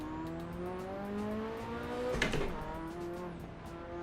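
A turbocharged car engine in the racing game Assetto Corsa revving steadily, with rising and falling harmonic tones, a brief burst of tyre or gear noise midway, and a faint rhythmic ticking throughout.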